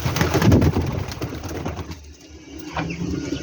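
Pigeons coo in soft, throaty, repeated calls close at hand, with a rustling, busy background beneath the birds.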